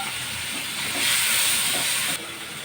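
Spiced pointed gourd paste sautés in a pan with turmeric, cumin, coriander and Kashmiri chilli powder, making a steady hissing sizzle that swells louder midway, then eases, with no talking.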